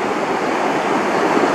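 Water in the Bode valley rushes steadily down a stream near a bridge, a loud, continuous broadband roar with no other sounds.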